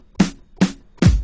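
Two snare drum samples layered together for a hip-hop beat, heard as three crisp, close hits in a row, the last one carrying a fuller low thump.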